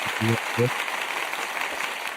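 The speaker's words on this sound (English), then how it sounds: "we're gonna just give you a big round of applause" Steady, hissing applause for a guest on a live stream carries on throughout, with a brief burst of a voice near the start.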